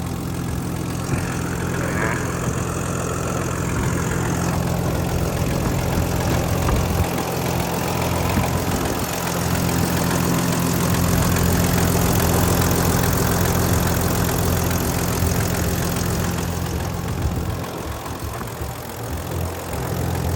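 A Mitsubishi MR20 road roller's diesel engine idles steadily throughout, a low rumbling drone with a constant mechanical hum, close by and with no one talking.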